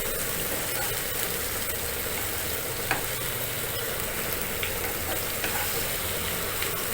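Paneer sizzles steadily in a hot pan, a dense, even frying hiss that stays close and loud for the whole stretch, with a few faint stirring clicks and no voices.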